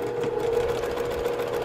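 A sewing machine runs steadily, stitching along the side of blue and white quilt binding fabric, a continuous close hum with a rapid needle rhythm and no talking.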